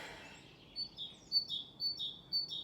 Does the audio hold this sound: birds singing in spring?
yes